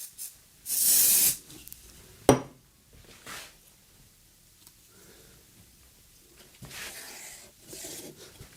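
Short hissing bursts from an aerosol of accelerant sprayed onto thick CA glue in a workshop, one loud spray near 1 s, a brief clack, then a softer spray near 7 s, quiet and without talk.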